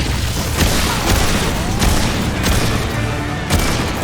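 Dense gunfire in the video game Remnant II crackles nonstop, with sharp shots layered over a constant loud rumble of explosions and battle noise.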